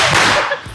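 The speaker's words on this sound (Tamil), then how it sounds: "இன்னொரு பட்டாசு சிஜோ இந்தா" A single Diwali firecracker exploding close by in one loud, sharp, crackling blast that fades quickly.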